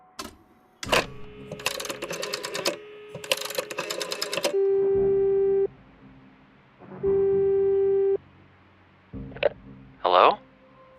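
A telephone call in the audio game Frequency Missing: dialing clicks and bursts, then two long steady ringback tones separated by a pause, followed by a short electronic blip at the end.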